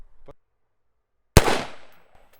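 A single sharp, loud rifle shot from a civilian Heckler & Koch G36 (HK243) cracks out after a brief silence, its report trailing off, with a faint thump just before.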